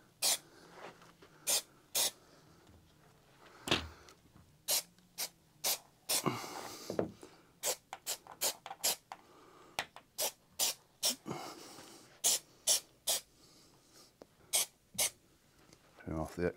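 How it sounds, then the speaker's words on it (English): Contact glue sprayed from a spray-gun nozzle while covering plastic VW T5/T6 A and B pillar trim panels, heard as many short sharp hissing bursts in an irregular rhythm, close and fairly loud, with no talking. "just spray a little bit into the bin, make sure the glue, the spray pattern is good, and then I can start spraying onto the piece"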